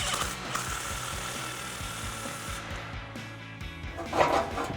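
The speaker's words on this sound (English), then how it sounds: "now we can switch to our 15mm socket to tighten down our clamp" Ratchet with a 15mm socket tightening an exhaust clamp on a Jeep Gladiator JT, giving rapid clicking pawl bursts in short repeated strokes up close, with a brief metallic rattle near the end.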